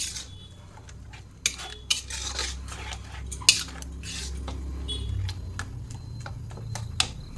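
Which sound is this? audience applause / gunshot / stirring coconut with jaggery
stirring coconut with jaggery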